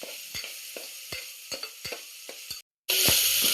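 Peanuts and peas fry in a pan for khichdi, a soft steady sizzle punctuated by a regular rhythm of spoon scrapes and stirs, ending in a sudden louder burst of sizzling.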